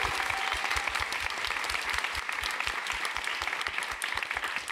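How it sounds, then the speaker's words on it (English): Applause from an audience at a White House event on mental health, steady dense clapping throughout, fairly close and loud, with no talking over it. "let's give him a round of applause."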